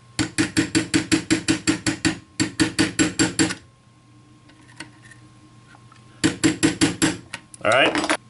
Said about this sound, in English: Now I can take the punch and the hammer, tap it the rest of the way home.